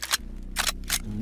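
Three sharp gunshots from the SPC-9 in the tactical shooter game Ready Or Not, fired at a steady pace, loud and close, with no talking over them.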